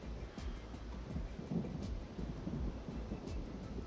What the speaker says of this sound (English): Listen to the thunder. There's a storm coming